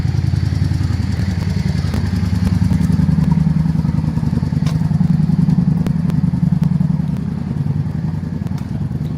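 A motorbike engine running close by on a street in Kyiv, Ukraine, a loud, steady idling rumble with faint clatter and a few sharp ticks over it.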